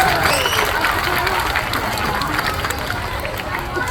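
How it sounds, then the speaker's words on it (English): A zoo crowd at a seal show at Wellington Zoo, New Zealand, claps and cheers in steady, fairly loud outdoor applause throughout, with voices mixed in. "Give yourselves and Bondi a big round of applause"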